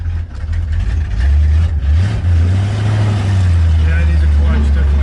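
A 1968 Ford Mustang on its first drive, engine revving and droning loudly up close, the pitch rising as it accelerates, with people talking over it inside the car.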